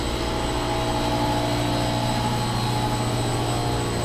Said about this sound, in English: Some of these compressors are running.